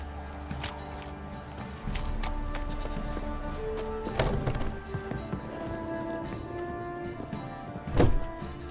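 Hooves of the horse Roach clip-clop in The Witcher 3, an uneven run of close thuds and clops under game ambience, with a louder clattering burst near the end and no talk.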